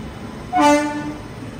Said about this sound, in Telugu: దుర్గ్ సూపర్ ఫాస్ట్ ఎక్స్ప్రెస్ చూడండి ఎంత మెల్లగా వస్తుందో ప్లాట్ఫామ్ నెంబర్ 2 కి